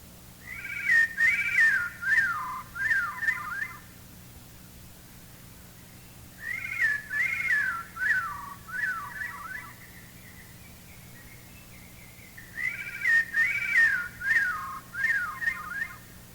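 A Veery's song slowed to half speed: three spaced phrases of descending, spiraling flutey whistles with layered harmonic tones, each lasting about three seconds, heard clearly and alone over a faint low hum.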